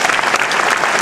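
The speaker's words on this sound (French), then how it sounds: "Ça mérite quelques applaudissements." Dense applause from a crowd at a sports awards event, a brief, loud, continuous burst of many hands clapping.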